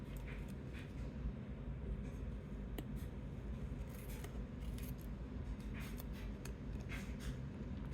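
Small scissors snip away excess washi tape from around a film slide, a run of light, close clicks and crisp cuts over a quiet background.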